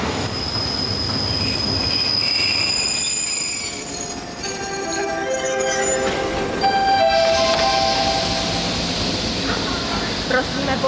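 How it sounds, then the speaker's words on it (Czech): A passenger train at a railway station gives off loud, sustained high wheel squeal over rumbling rolling noise, with an announcement-like voice partly audible beneath. "Na první koleji nastupujte do osobního vlaku číslo 9311 ve směru Praha-Libeň"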